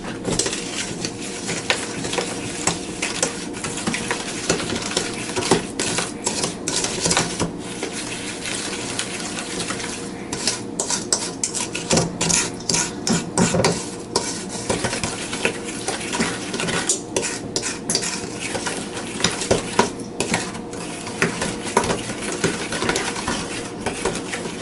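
Butter and sugar being mixed in a bowl for moon pie filling, with steady scraping and clinking of a utensil against the bowl running throughout at a constant close level, no talk.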